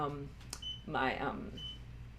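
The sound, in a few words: treadmill beeping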